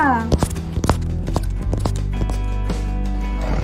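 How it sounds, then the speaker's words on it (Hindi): Horse hooves clip-clop in a steady trotting rhythm alongside a neigh, set in a children's Odia animal-names song with music playing throughout and a voice singing over it. "मो सहित कुह घोड़ा"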